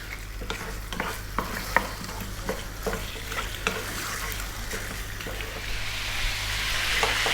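Lamb pieces brown in a pan over medium heat with a constant close sizzle, broken by repeated scraping stir strokes of a utensil against the pan.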